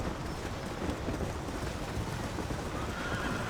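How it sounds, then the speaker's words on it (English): A horse in Red Dead gallops across the landscape, a dense rumbling rush of hoofbeats and motion with a neigh mixed in, loud and continuous, no talking. "Come on, horse,"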